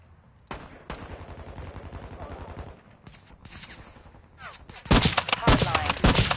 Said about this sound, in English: Oh no, that guy's shooting at me.